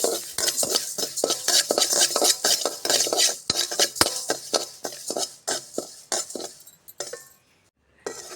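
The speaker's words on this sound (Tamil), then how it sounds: "அடுத்தது பாசிப்பருப்பு, அதையும் நல்லா வறுத்து எடுத்துக்கிறோம்." Split moong dal being dry-roasted in a pan for a rotti kuzhambu, stirred briskly with a metal spoon that scrapes and clinks steadily against the pan, close and fairly loud, with a quiet pause near the end.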